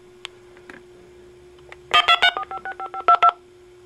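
A quick burst of touch-tone dialing beeps, about nine short tones in a row, preceded by a few faint clicks and a low steady hum.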